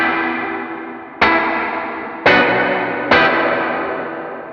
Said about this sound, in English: once we turn off the glow, it's a darker sounding reverb